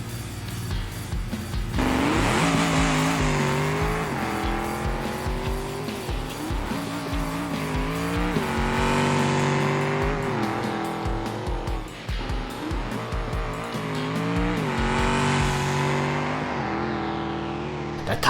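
Drag racing car in BeamNG spinning its tires at launch, a loud, sustained engine roar with rising and falling revs through repeated gear changes and tire squeal, heard without talking.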